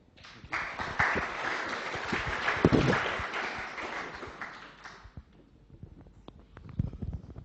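Audience at a university science honours information session gives a round of applause, a dense burst of clapping that swells, holds for several seconds, then thins into scattered individual claps.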